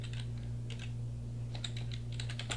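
Quick bursts of typing on a computer keyboard, light clicky keystrokes in short clusters over a steady low electrical hum, close and fairly quiet.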